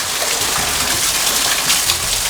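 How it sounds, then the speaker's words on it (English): A small waterfall pours beside a little cave in a garden pond with koi in Inverness, Scotland, a loud continuous rushing splash close by with no voices. "Oh, you get behind the little waterfall, look."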